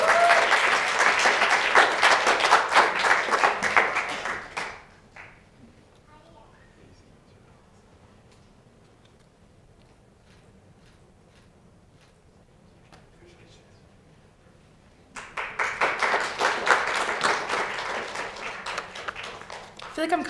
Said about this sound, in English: Cutting off your applause.